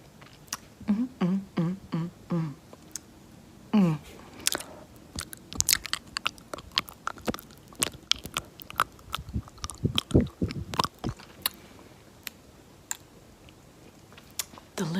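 Close ASMR mouth sounds of pretend eating and lens licking: wet smacks, clicks and crunchy chewing noises in quick irregular bursts, some rapid runs of clicks, with no talking.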